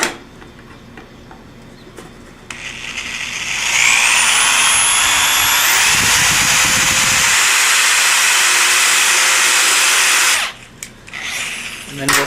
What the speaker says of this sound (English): Let's grab our drill and we're going to drill a hole right through the bottom of our combiner box.